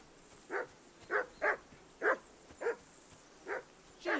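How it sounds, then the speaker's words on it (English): Dog barking in the medieval video game Kingdom Come: Deliverance 2, seven sharp separate barks spaced irregularly over a quiet background, fairly close and clear. "Henry, that barking's driving me nuts. Can you get your dog to shut its beak"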